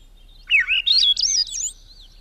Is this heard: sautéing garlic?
no